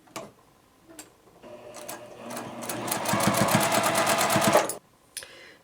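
Sewing machine stitching quilt pieces together, a steady rapid mechanical whir that runs for a few seconds after brief handling noises, then stops abruptly with a short click.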